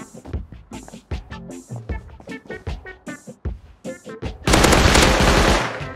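Gunfire in the survival game Rust: a string of loud, close single shots with short gaps, building into a sustained rapid automatic burst near the end.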